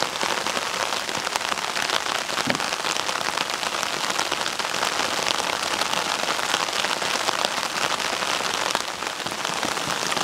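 Rain drums densely and evenly on a tarp overhead, a close, continuous patter of many drops with no voices.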